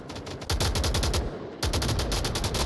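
Rapid automatic gunfire crackles in the VR shooter Onward during a competitive match, two sustained bursts of close, loud shots separated by a short pause.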